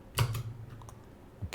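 Computer keyboard typing, a few soft key clicks close by in a quiet room, with a short pause before another tap.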